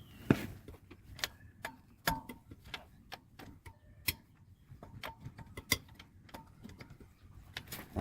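A 17mm socket and ratchet loosen the wheel nuts on a Skoda Fabia, giving a quick run of sharp metallic ticks and clicks, close and irregular, with small pauses between bursts.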